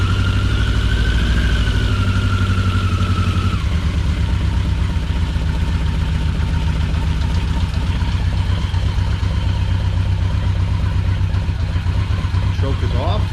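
A 1982 Yamaha XJ650 Maxim motorcycle that had sat unused for five years idles steadily nearby with a low, continuous engine rumble, the pitch dropping slightly a few seconds in.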